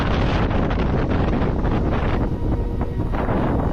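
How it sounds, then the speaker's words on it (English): Strong gusting wind at a snowy winter campsite, a loud, continuous roaring buffet that batters the microphone throughout with barely any letup. "It's got to be gusting 50 miles per hour out here."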